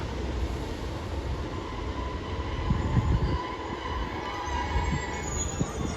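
A packed passenger train rumbles past at Teignmouth, a steady loud roar of wheels on rails with faint squealing and clattering throughout, close by and without any talk.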